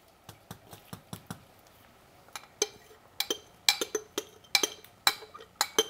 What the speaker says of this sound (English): Actually, let me scoop some more ice out of here.